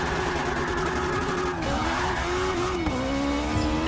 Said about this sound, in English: the car is actually not that bad at drifting. It slides, it does its job